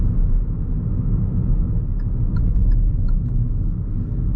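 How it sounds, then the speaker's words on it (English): A Hyundai i10 drives along the road, heard from inside as a steady low engine and tyre rumble with faint light clicks, no voices. "The car drives very smooth."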